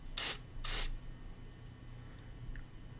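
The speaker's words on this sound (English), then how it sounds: "So I'll just spray in here" Two short bursts of aerosol lubricant spray hiss up close onto a zipper, one right after the other, followed by quiet handling noises.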